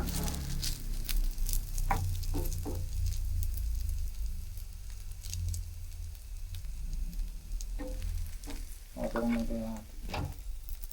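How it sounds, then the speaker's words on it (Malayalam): Bread, likely egg-coated, fries in a hot pan with a steady, dense sizzle throughout, punctuated by occasional soft clinks and scrapes of a utensil, close and moderately loud. "ഇങ്ങനെയാണ് ബ്രെഡ് പൊരിക്കേണ്ടത്."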